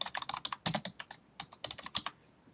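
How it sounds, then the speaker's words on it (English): Quick, uneven keystrokes on a computer keyboard clatter in two close bursts with a brief pause between, crisp and near, with no talk over them. "So I'm just typing right into the box."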